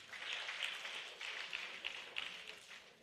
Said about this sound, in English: Another round of applause for the government.